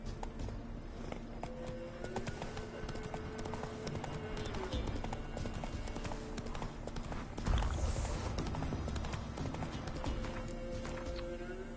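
Geralt's horse Roach trots in The Witcher 3, a steady clip-clop of hooves close by with a brief snort or whinny partway through, over a low ambient game background.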